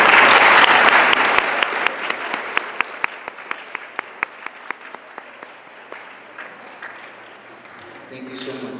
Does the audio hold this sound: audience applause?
yes